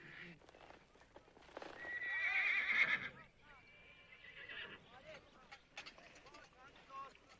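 In a Western television drama, a horse gives a loud, shrill neigh that rises and falls over about a second. Hooves clip-clop sporadically around it, and faint voices sound in the background.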